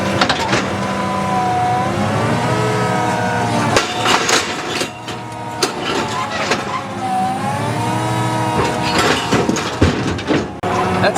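A tractor picks rocks in a field, its engine revving up and down in long swells while hydraulic whines and clanking metal knocks punctuate the steady mechanical drone, close by.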